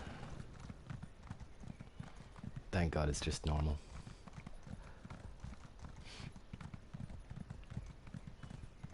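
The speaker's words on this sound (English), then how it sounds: "Oh god, my slow ass horse." Horse hooves clip-clop in Elder Scrolls Online during a normal trials run, a short loud burst of galloping steps over steady game background, with a voice speaking over it.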